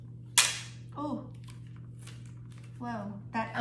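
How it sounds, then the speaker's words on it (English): Transfer tape peeling off an acrylic sign, with a sharp pop as a vinyl letter snaps up, followed by soft crinkling; a low steady hum runs underneath and a person's voice speaks quietly in between. "Pulling off the transfer tape and saving whatever I can save"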